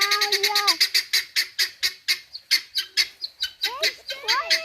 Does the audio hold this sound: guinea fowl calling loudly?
yes